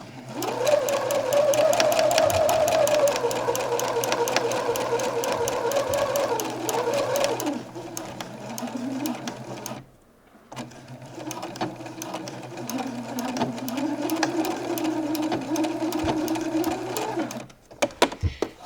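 A sewing machine stitches a French seam on a garment shoulder, whirring steadily and loud for about ten seconds, pausing briefly, then running again in a long continuous burst before stopping.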